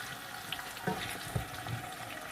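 Ox liver frying in a pan gives a steady, even sizzle at moderate volume, with a few faint clinks and soft stirring bumps and no talk.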